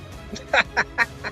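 A flamingo gives a series of about four short, nasal honking calls in an uneven rhythm, moderately close, in an outdoor setting in Dubai.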